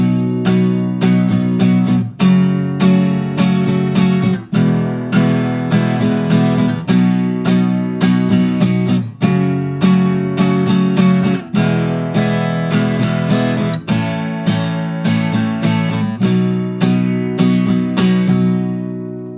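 A strummed guitar chord progression from the pre-chorus of a song, with steady rhythmic strokes, bright and full, played alone without any voices.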